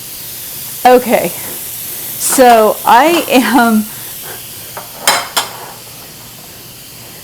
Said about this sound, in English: I'm going to push it to venting.